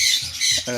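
A hand-tamed female sun conure parrot gives loud, harsh squawks in quick succession, close by and without any talk over them.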